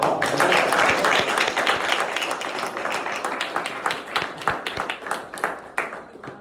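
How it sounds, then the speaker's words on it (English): A small audience at a university finance association entrepreneurship workshop gives a round of applause for a guest speaker, a dense burst of clapping that thins into scattered individual claps as it fades. "Let's give him a round of applause"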